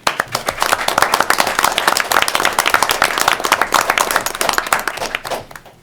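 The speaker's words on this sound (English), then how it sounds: "I'd like to give Bob a round of applause" A room full of people at a city Common Council meeting claps steadily, a dense burst of applause that holds strong for several seconds before tapering off.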